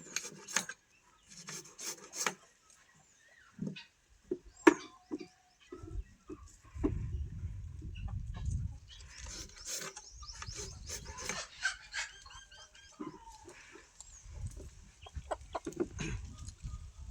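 Faint intermittent clucks and scratching from native country hens under trees in summer, among quiet rustling, with a low rumble in the middle.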